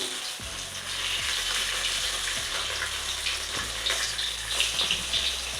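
Kalmi greens fritters fry in hot oil with a steady, close crackling sizzle that carries on without a break, and a few soft clacks of a utensil come through now and then.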